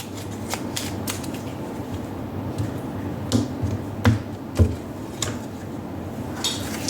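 Crisp riffling and soft slaps of tarot cards being shuffled at close range, in several short bursts with quiet gaps between.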